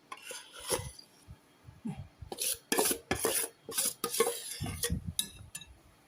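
Mashed sweet potato scraped and transferred into a mixing bowl: a run of irregular rasping scrapes and soft utensil clinks against the bowl, close and fairly quiet, in short bursts.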